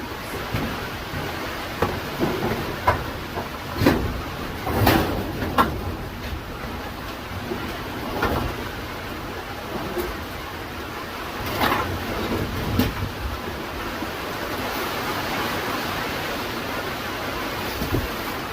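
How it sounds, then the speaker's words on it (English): Heavy rain pours down steadily during stormy Arkansas weather, a broad constant wash of noise with occasional louder gusts and splashes, heard from close by outdoors. "so now I can't go out there because it's pouring down rain"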